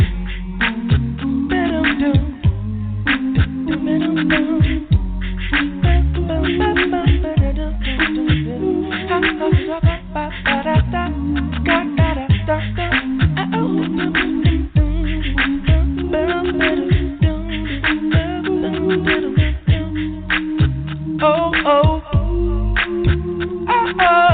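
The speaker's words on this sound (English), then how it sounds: "There's no other music like this, yeah. Acapella music." Voices sing a cappella gospel in a soulful style, with layered harmonies, no instruments, and a steady rhythmic pulse carried by strong low bass parts throughout.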